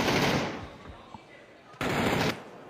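Gunfire from a PUBG esports match, two loud bursts of rapid shots at the start and again near the end with quieter scattered shots between, heard amid casting commentary.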